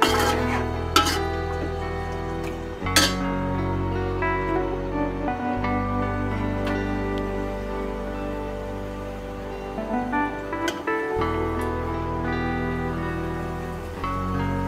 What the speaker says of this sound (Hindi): लहसुन अदरक के साथ उसको फ्राई करेंगे गोश्त को 3 से 4 मिनट तक।